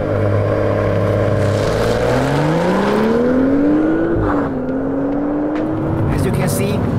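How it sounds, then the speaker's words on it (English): A BMW 2 Series Coupé pulls away from a launch-control start, its engine rising steadily through the revs to a gear change, then climbing again, with someone speaking over it. "you press the acceleration pedal and release the brake"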